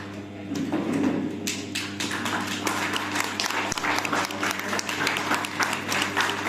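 An audience at an honouring ceremony in Keshod breaks into sustained applause, dense, close clapping that swells after a quieter start and carries on steadily, with a low hum underneath.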